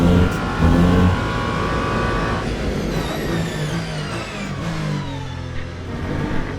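The number 8 Toyota race car's engine revs hard and then changes pitch as it passes on a Le Mans lap in Le Mans Ultimate, a loud sustained roar with rising and falling gear tones.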